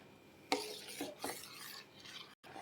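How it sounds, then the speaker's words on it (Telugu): A spoon stirs moong dal simmering in milk in a pot on a medium flame, producing soft, quiet scraping and clinking strokes at irregular intervals. "ఇలా స్టవ్ మీడియం ఫ్లేమ్లో పెట్టుకొని ఇలా కలుపుతూ ఉండాలండి"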